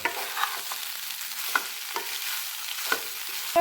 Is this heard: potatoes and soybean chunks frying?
yes